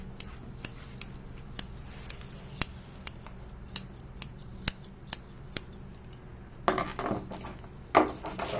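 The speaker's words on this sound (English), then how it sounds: "I'm going to cut the front here" Scissors snip a Maltese puppy's long hair in a steady series of sharp, close clicks about every half second, with a brief rustle of handling near the end.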